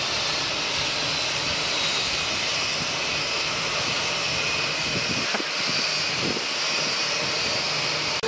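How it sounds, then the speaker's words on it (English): A jet airplane bearing the New York Jets logo produces a continuous, even engine roar that holds at a steady level throughout. "It's a plane for the Jets."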